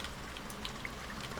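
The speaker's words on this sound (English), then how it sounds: "Oh, there's the rain. Gotta love the rain." Rain falls steadily outside a garage, a dense, fairly loud hiss of drops with scattered brighter splashes and no talking.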